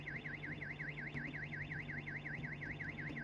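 A Roblox fire alarm sounds alone as a steady, loud, rapidly warbling electronic whoop that repeats evenly over a constant low hum.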